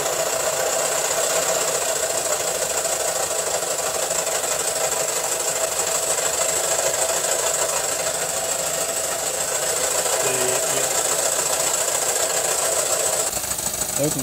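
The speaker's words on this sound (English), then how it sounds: "you can also hear that the engine got a bit faster" An O gauge live steam model locomotive engine runs while raising steam, giving a continuous, dense mechanical chuffing and rattling hiss that stays close and loud throughout.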